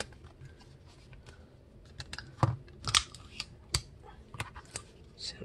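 Scissors snipping tape while a paper sword is put together, a handful of sharp, close clicks and cuts spaced irregularly over quiet room tone.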